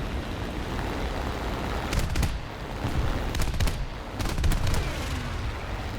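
Cannon and machine-gun fire from a Yak-9T fighter strafing a BV-138 flying boat in an arcade air-combat game, several short bursts of rapid shots over a constant engine roar.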